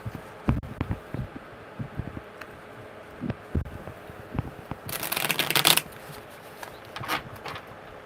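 Cards are riffled and shuffled in a few quick bursts, with soft handling taps and rustles around them in a quiet room.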